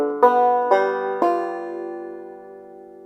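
A banjo is played in Charlie Poole style: three distinct plucked notes struck about half a second apart, ringing bright and close, then decaying slowly.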